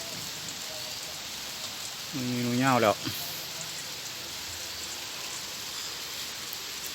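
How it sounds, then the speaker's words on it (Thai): Steady rain falls outdoors in a backyard garden, a constant hiss of drops on surfaces throughout; a voice calls out briefly over it near the middle. "ฝนตกแล้ว"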